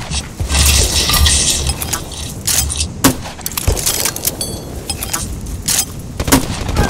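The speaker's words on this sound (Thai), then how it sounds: "เฮ้ยโดนยิงอยู่" Gunfire from Battlefield: Bad Company 2 during a team match: loud, sharp bursts of shots and impacts come in rapid clusters over steady, noisy battle ambience.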